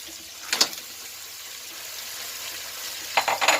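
Crab hits a hot pan of mixed seafood and fries with a soft sizzle, broken by sharp stirring and scraping bursts at the start and end, close and without talk.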